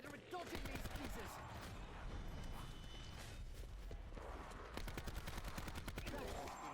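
Rapid gunfire in a video game as a player unloads hundreds of bullets into a zombie boss, a dense continuous stream of shots with a faster rattling burst toward the end, loud over game noise.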